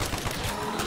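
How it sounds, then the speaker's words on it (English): Rapid sustained fire from a Death Machine minigun in Call of Duty Black Ops zombies, a dense continuous roar that fills the whole short moment with no pauses. "I got a death machine, I'm shooting Joy."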